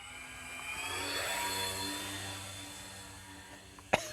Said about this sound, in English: We'll just do a nice slow pass for you here.